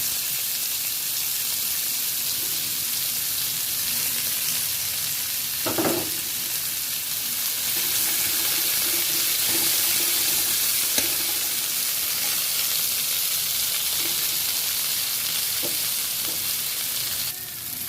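Onion frying in a pan with tomato and potato for a papaya-potato fish curry, giving a steady, loud, close sizzle throughout with a few brief stirring knocks and no talk.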